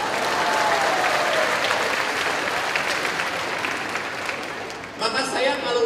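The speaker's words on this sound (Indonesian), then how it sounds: "Tepuk tangan untuk wanita." Audience applause at a family-life seminar led by a priest, a dense sustained burst of many hands clapping from a crowd that tapers slightly, with a brief shift in tone near the end.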